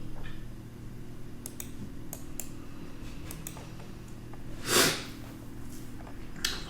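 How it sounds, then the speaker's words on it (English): A single short nasal sniffle stands out near the end, set over a steady low hum and scattered faint clicks. "Apologies for the sniffles constantly"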